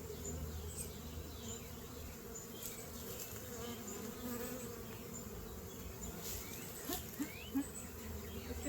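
Honeybees buzz in a dense, faint swarm as they are installed into a Flow Hive, a steady droning hum with occasional light taps.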